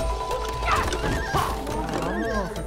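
Horse neighing and whinnying loudly in the video game It Takes Two, with clip-clop hooves and a low steady rumble underneath; the whinnies come close together, nearby.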